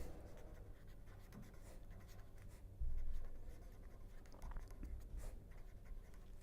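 Chalk or marker scratching across a board as equations are written during a statistics lecture, a soft continuous scraping texture with a brief louder thump near the middle, fairly close and without speech.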